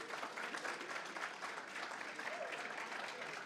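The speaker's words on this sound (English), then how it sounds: "Let's give another round of applause." Steady applause from an audience at a virtual talent hunt program, continuous and fairly even throughout with no voices rising above it.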